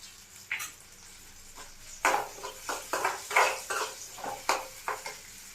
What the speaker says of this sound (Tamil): சின்ன வெங்காயம் ஒரு அரை கப்பு எடுத்துருக்கிறேன். இதெல்லாம் நம்ம நல்லா வதக்கிடலாம்.